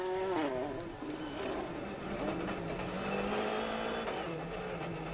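Sébastien Ogier drives a VW Polo R WRC rally car on a Monte Carlo Rally 2013 stage, heard from onboard as a loud, continuous engine rising and falling in pitch through rapid gear changes.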